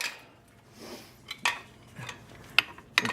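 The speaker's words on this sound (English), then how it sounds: "Now we pull out one of the brake pads." Brake pad being pulled from the two-piston front brake caliper of a Chevy Tahoe, giving a few sharp, close metallic clinks and scrapes with quiet handling noise between them and no talking.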